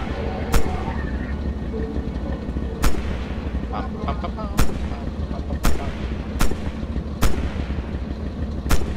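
Tank cannon fire in the Red Orchestra 2 video game, single-shot mode: seven loud, sharp blasts at roughly regular intervals over a steady low engine rumble, each shot booming through the mix.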